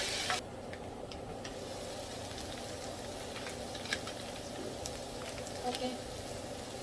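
Sauce is stirred into okra in a hot pan, with a continuous soft sizzle and scattered light scraping and clicking from the utensil against the pan.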